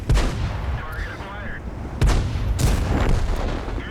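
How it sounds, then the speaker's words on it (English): Tank cannon shots in the World of Tanks video game, with two heavy booming blasts about two seconds apart, each followed by rumbling reverberation in a dense game soundscape. "as Chunky picks up his first kill and takes out the dangerous leopard tank"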